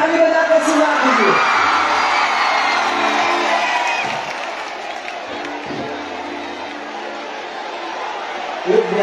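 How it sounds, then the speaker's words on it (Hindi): A large crowd at a Bhojpuri stage show in Kolkata roars with sustained cheering, whooping and clapping, loud and continuous throughout, with a few voices shouting through the din. "ताली बजा कर सुना दीजिए"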